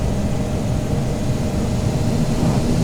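Simulated ATR turboprop engine revving steadily while the plane taxis at Kai Tak at night in a flight simulator game, a loud continuous low drone with no talk over it.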